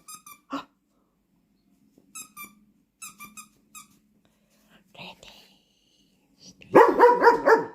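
A dog chews and squeezes a squeaky Celtic dog toy, giving a few short high squeaks spaced apart, then a burst of rapid squeaking near the end, close and fairly loud, with a soft voice briefly between.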